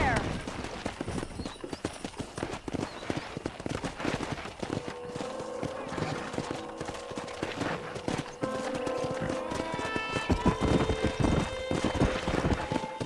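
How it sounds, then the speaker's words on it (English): Wild horses in the video game Red Dead Redemption gallop with a constant rapid clip-clop of hooves, and a drawn-out neigh rises late, all close and loud while game characters speak over it. "That ranch hand said there's a pack of wild horses nearby."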